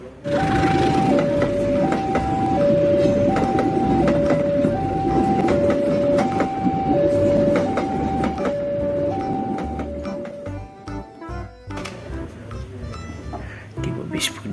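A locomotive rumbles steadily alongside a repeating two-tone signal that alternates high and low pitches, then fades into rattling and clattering noises.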